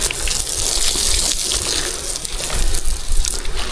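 Water gushes steadily and loudly from a hose onto the ground around jackfruit trees, a continuous rushing splash without pause.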